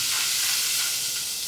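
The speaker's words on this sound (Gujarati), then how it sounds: "આપણે ઉપરથી વઘાર કરી નાખશું" Hot oil tempering with chilli powder is poured over shahi paneer in a home kitchen, giving a loud, even sizzling hiss that holds steady and fades only slightly toward the end, with no talk.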